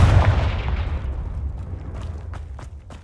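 A Confringo fire spell in Hogwarts Legacy detonates as a heavy, booming blast that rolls off into a long fading rumble, with faint crackling hits trailing behind.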